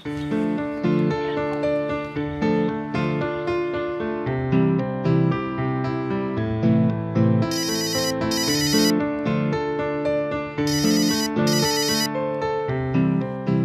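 A melodic phone ringtone plays loudly, its tune repeating in phrases with brief bright chiming bursts layered in twice.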